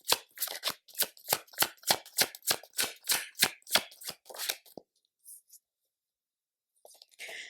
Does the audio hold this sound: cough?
no